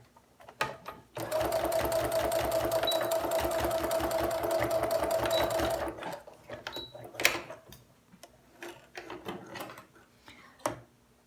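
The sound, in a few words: sewing machine stitching a fabric face mask pocket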